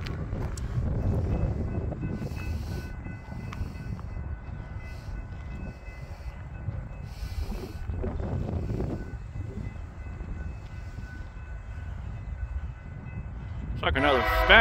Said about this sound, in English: Just caught a stack train going westbound.